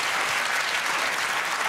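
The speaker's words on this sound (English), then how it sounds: "But the round of applause can fuck right off." Dense, continuous round of applause from a studio audience at a British comedy panel quiz show, loud and sustained throughout with no speech over it.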